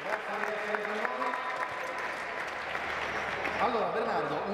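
Crowd applause greets former Lazio player Bernardo Corradi at a futsal gathering, continuous clapping running under a voice that talks throughout.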